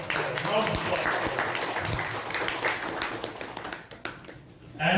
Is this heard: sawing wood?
no